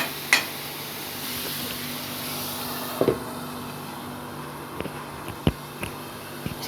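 Goat liver (kaleji) fries on a tawa griddle with a steady, soft sizzle, broken by a few sharp clinks and taps of a utensil against the pan.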